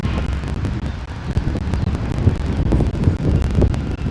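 Strong storm wind buffets a microphone in heavy low rumbling gusts, loud and close, with no talking throughout the short stretch.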